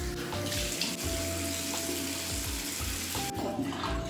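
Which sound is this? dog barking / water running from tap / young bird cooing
water running from tap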